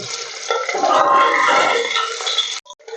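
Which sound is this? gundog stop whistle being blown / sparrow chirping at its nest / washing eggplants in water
washing eggplants in water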